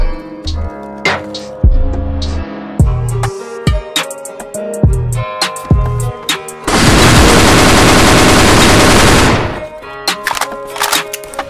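AK-47 assault rifle in the MaskGun mobile FPS game firing loud, close single shots and short bursts, then a sustained several-second automatic burst before more scattered shots.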